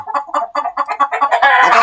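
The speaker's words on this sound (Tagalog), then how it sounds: "maingay na yung aking mga alaga, nagkukutat-kutat" Backyard chickens cluck loudly and close by in a rapid string of short calls that build into a denser, noisier squawk at the end.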